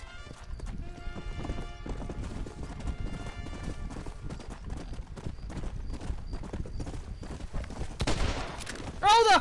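Rapid hoof clip-clops from a galloping horse in the video game Red Dead Redemption, steady and close, with scattered sharp bangs and a burst of louder effects near the end.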